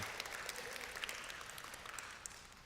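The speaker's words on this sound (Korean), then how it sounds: "저희가 환영의 박수 한번 쳐드리겠습니다" The congregation at Pasadena Presbyterian Church claps in welcome for two visiting women during a Sunday service, producing faint, distant, continuous applause at low level.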